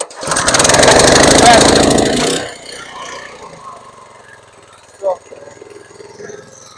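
A small petrol engine on a branch chipper is pulled into life with ignition on, fuel tap open and choke set, roars loudly for about two seconds, then cuts out, leaving quiet clicks and faint voices.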